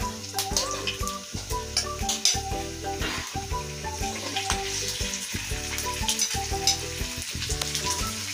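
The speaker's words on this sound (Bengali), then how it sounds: "চিকেনের পিসগুলো শ্যালো ফ্রাই করে নিতে হবে যাতে ভিতরে জুসিনেসটা থাকে" Chicken pieces shallow frying in plenty of hot oil in a pan over medium flame, a steady close sizzle with repeated crackling bursts and occasional stirring clatter throughout.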